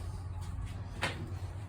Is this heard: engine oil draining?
no